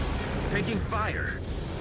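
Naval gunfire on a ship in World of Warships during a USS Midway carrier battle, low booming rumble running under radio-style voice callouts for the whole stretch.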